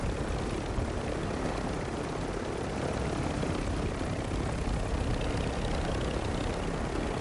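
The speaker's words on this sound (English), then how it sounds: "That chopper's three quarters away" Helicopter in a video game, a steady, loud rotor-and-engine roar holding constant throughout, close and unbroken, with no voices over it.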